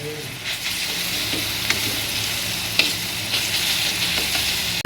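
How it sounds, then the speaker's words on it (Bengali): Garlic frying in hot oil with onions in a home kitchen pan, a steady close sizzle with occasional soft scrapes and clicks of stirring throughout. "এবার রসুনটা ভেজে নেবো"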